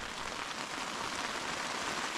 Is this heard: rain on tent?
yes